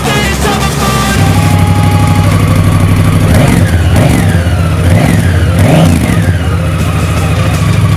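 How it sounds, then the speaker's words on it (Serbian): A 2018 Honda Africa Twin Adventure Sports motorcycle engine idles loudly up close, then revs three times in quick rising bursts over a steady throbbing rumble. "U pitanju je motor Honda Africa Twin 2018. godište, model Adventure Sport"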